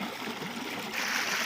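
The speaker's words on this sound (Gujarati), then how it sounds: "અહીંયા પાણી આવે છે" Water flows steadily nearby, a continuous rushing trickle that grows slightly louder partway through, with no voices.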